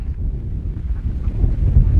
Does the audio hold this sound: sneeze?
no